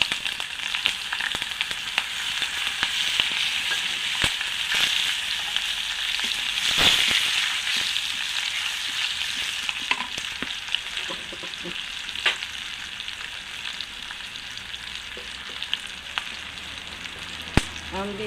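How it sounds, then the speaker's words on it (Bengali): Cumin seeds and crushed garlic frying in hot oil: a steady, bright sizzle with scattered sharp pops and crackles, close and continuous, with a few stirring knocks. "তেল গরম হয়ে গেছে, এই কটা জিরে দিয়ে দেবো। একদম কটা মরিচ জিরে আমি ঠুছি আর রসুন থেতো করে ঠুছি"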